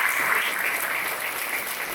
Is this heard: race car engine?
no